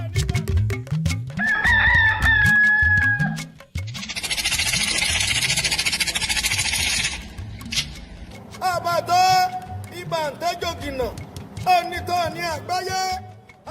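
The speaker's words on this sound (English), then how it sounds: "Every morning as the cock crows" Several loud rooster crows ring out at morning in Ile-Ife, southwest Nigeria, repeated calls with a rising then falling pitch over ambient noise and a burst of rattling.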